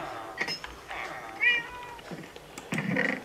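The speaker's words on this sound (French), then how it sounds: "Oui, le chat." A Minecraft cat meows several times in short bursts over quiet game ambience, the calls fairly close and clear, with a faint voice nearby.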